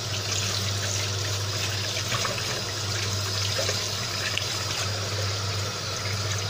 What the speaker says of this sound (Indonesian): Dicuci dengan air mengalir.